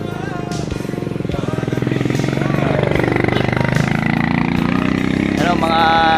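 Motorcycle engine running on a steep mountain road, a loud throbbing motor that builds and stays close, with people talking over it.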